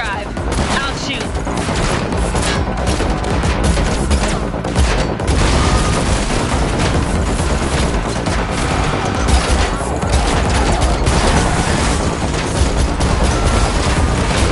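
Sustained, loud gunfire from The Matrix Awakens demo on PS5 during a car chase, with dense bursts of automatic fire and booms running continuously throughout, heavy and close.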